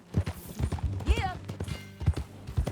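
Horse hooves clip-clop at a steady walking pace in the video game Red Dead Redemption 2, mixed with a brief whinny, while a character speaks over them.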